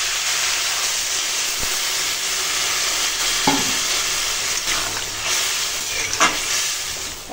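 Water poured into a pan of taro and prawns frying in a home kitchen, giving a loud steady sizzle and hiss with occasional stirring scrapes close by.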